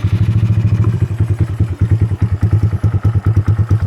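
A Honda Grom motorcycle with a stage 3 cam and tune idles in neutral close by, giving a loud, steady stream of fast, choppy thumping exhaust pulses.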